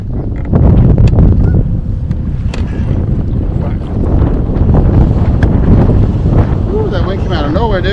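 Strong gusts of wind buffet the microphone on a small fishing boat on the water, a loud, roaring, continuous rumble with brief voices breaking through.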